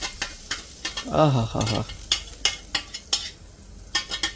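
Tomato chutney being tempered in a hot pan, with bursts of sizzling and repeated scraping, clinking stirs in an uneven rhythm, close by; a voice briefly exclaims near the start.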